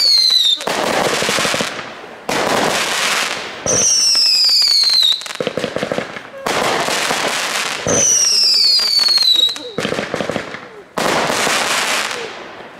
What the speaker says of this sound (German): Die 48-Schuss-Batterie Speed Metal.